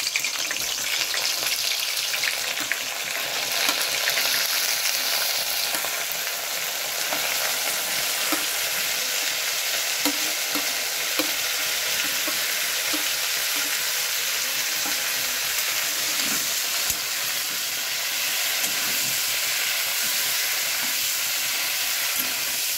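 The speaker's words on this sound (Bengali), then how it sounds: "তেলটা গরম হয়ে গেছে, এবার আমি ফুলকপিটা দিয়ে দেবো। ফুলকপিটা একটু ভেজে তুলবো।" Cauliflower pieces frying in hot oil give a loud, continuous sizzle and crackle, steady and close for the whole stretch, with no talking.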